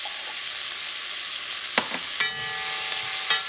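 Food caramelizing in oil in a pan makes a close, bright, hissing sizzle, broken by a few sharp stirring scrapes and clinks partway through, with no voices.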